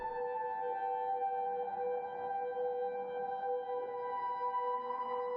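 A soft, glassy synthesizer piano pad from a sample pack, called Glass One, holds steady sustained tones, smooth and continuous with no attack, alone and fairly quiet throughout.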